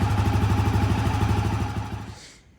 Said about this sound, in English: We're gonna let it run for a few minutes